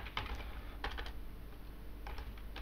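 Fingers type code on a computer keyboard during C++ game programming, a few sharp, separate keystrokes in short bursts, close and alone, over a steady electrical hum.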